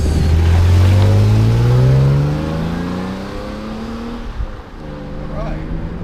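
A US-spec 1997 BMW E36 M3 with the S52 engine and stock exhaust revs loud and close, its pitch climbing over a couple of seconds before settling to a steady drone, with people talking over it.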